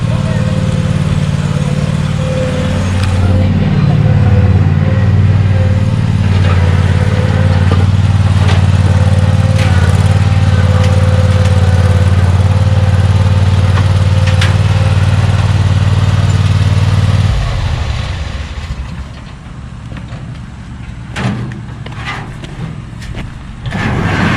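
A Bob-Cat mower fitted with Tweel airless tires runs at a power equipment shop. Its loud, steady engine drones close by, then cuts out, leaving quieter background noise and scattered clatter, while someone talks over it.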